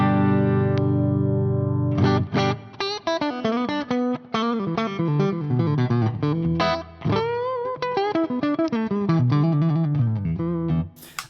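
A Gibson Les Paul Studio electric guitar plays on the neck pickup through distortion, a sustained opening chord followed by a busy run of melodic lines, full and loud, with no talking.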